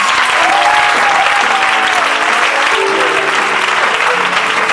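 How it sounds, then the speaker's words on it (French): An audience at a formal ceremony honouring a general breaks into loud, sustained applause, dense clapping from many hands filling the whole stretch, with a voice briefly audible beneath it. "On acclame."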